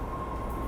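A subway train at Kendall/MIT, the last stop, gives a steady, loud rumble of rail noise with a faint tonal whine, heard close and continuous, with no talk.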